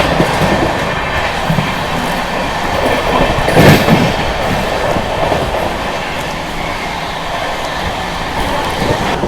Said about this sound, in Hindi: हमारी ट्रेन इस समय भरवारी को स्किप कर रही है मेन लाइन से 110 की स्पीड पे